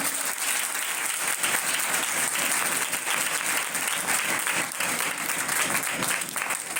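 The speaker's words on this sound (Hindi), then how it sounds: "यीशु के लिए जोरदार तालियां बजाएं।" A church congregation applauds loudly during a Sunday service, a dense, sustained roar of clapping from a large crowd that fills the room from start to finish without any speech on top.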